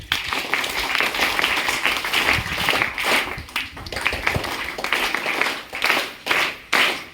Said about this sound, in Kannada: ವಿಸರ್ಜನ್ ಅಂದಾಗ ಚಪ್ಪಾಳೆ ಹಾಕ್ಬೇಕು